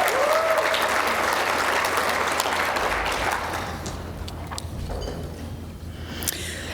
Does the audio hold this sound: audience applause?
yes